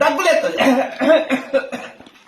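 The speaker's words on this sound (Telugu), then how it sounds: "దగ్గులేస్తుంది" Repeated coughing from a person at close range, several rough bursts in quick succession with voice-like tones mixed in, fading toward the end.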